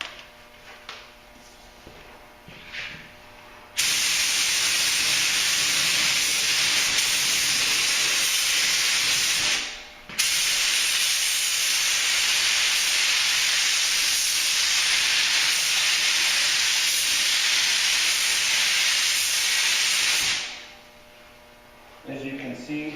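A paint spray gun shoots urethane clearcoat onto an Acura RL car panel in a loud, steady hiss that runs for several seconds, breaks off briefly, then resumes before stopping, over a low background hum.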